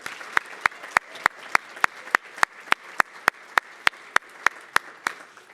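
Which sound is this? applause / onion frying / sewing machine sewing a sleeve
applause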